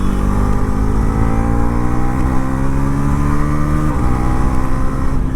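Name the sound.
Bajaj NS 400 Z motorcycle upshifting with quickshifter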